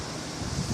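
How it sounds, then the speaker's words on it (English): Wind from an approaching haboob dust storm blows as a steady broadband rush, close to the microphone and growing slightly louder toward the end, with no talking. "Hear the wind?"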